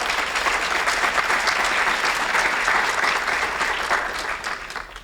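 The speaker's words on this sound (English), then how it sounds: "why don't we give them a round of applause?" A dense, sustained burst of audience applause fills the room, many hands clapping together at steady loudness before easing off slightly toward the end.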